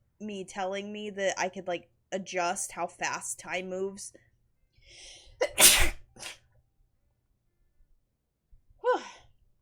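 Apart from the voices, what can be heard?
sneeze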